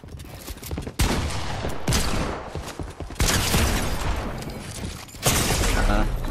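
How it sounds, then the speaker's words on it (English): Hand cannon gunfire from the Fortnite video game: loud, heavy shots in bursts, with sharp onsets near the start and again around a second, three seconds and five seconds, each followed by dense sustained blasts and rumble. "I'm crazy with that hand cannon."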